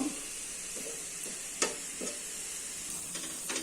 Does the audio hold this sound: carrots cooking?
yes